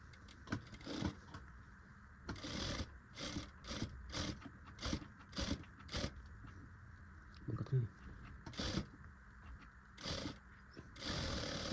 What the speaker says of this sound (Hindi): और ये बेल्ट है, जिधर का बेल्ट लेना है उधर का ले लीजिए और सिल के दिखाता हूँ।